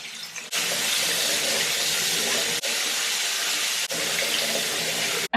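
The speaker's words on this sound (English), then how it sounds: "And then you just basically quickly rinse them." Makeup brushes are rinsed under a running tap, making a steady, loud rush of water. It breaks off briefly twice as the brushes move through the stream.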